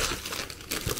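Plastic or paper packaging crinkles close up as a DJI FPV Remote Control 2 is unboxed, two bursts of crackly rustling with no talk.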